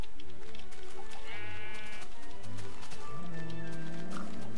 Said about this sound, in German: Dieses Schaf ist einfach nur dumm.